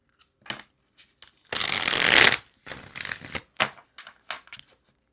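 Tarot cards shuffled by hand in a series of papery riffles and flutters, with one long loud burst followed by shorter, lighter bursts spaced through the stretch, close up with no talking.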